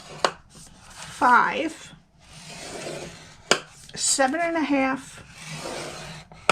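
A Simply Scored scoring board scrapes across cardstock in short rubbing strokes between brief spoken counts, close and moderately loud.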